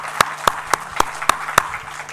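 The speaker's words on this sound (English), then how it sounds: "please give yourselves a big round of applause" Audience applause at a university research conference, heard as six sharp, evenly spaced claps over about two seconds, moderately loud and sparse, like a few people clapping in a hall.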